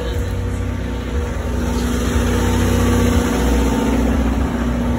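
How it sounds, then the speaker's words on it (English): A noisy generator drones steadily at a speed-racing event, a constant low engine hum with mechanical vibration filling the background, loud and unbroken throughout with no speech. "Noisy generator"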